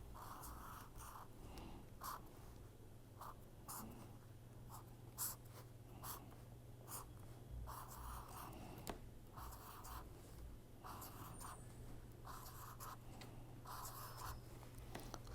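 Pen writing orbitals on paper during a chemistry lesson, with continuous soft scratching strokes over a steady low hum, close and quiet throughout.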